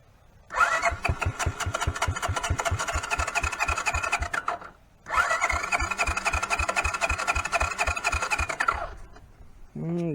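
A 1983 Honda Big Red 200 ATV with a new carburetor and choke on is cranked twice, each a few seconds of rapid rhythmic starter churning that fails to catch, with a short pause between attempts.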